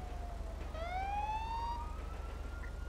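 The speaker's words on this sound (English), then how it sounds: "It might be one of those ambient sirens." A police siren in a video game wails with a rising tone in the background, moderately faint and steady, over a low rhythmic engine hum.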